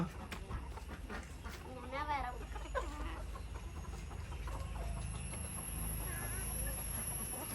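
Chickens cluck and squawk in short bursts near a yard kept with pigeons and ducks, mixed with other fowl calls and background rustle, with voices talking at times.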